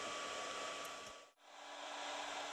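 A heat gun blows hot air over a Shaft Skinz grip sleeve, a steady close airy roar that briefly drops away mid-clip before building back to full strength. No one speaks.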